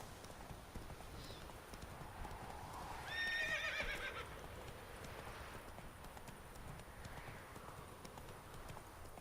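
Horse in the video game Witcher 3 galloping with a quiet, rapid clip-clop of hooves, a short neigh rising over it midway, faint and continuous in the background.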